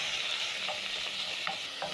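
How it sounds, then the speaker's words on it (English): Minced beef frying for Cajun rice makes a soft, continuous sizzle, with a few short spatula scrapes as the meat is broken up, close and quiet with no talking. "Using a spatula, you're going to break down the minced meat as it cooks."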